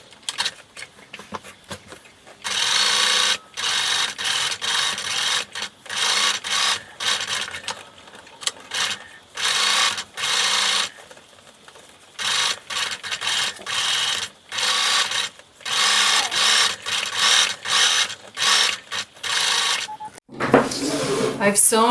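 Home sewing machine stitching around the edge of a ghost-shaped pillow with pompom trim, running in repeated bursts of steady whirring with short pauses between, close and fairly loud, with a different handling noise at the end.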